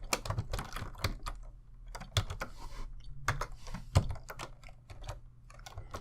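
Fingers type on a computer keyboard in quick, uneven bursts of close, crisp key clicks, with short pauses between words and no speech.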